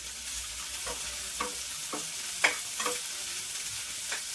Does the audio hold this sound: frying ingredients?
yes